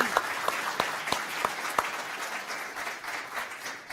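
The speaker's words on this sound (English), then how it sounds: "Applause." Applause from a journalism conference audience after a panel discussion, with many hands clapping at once and a few sharp, louder claps standing out, fading slightly toward the end.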